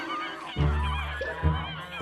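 Geese honking nearby, two loud low honks about a second apart with other bird calls and chatter around them.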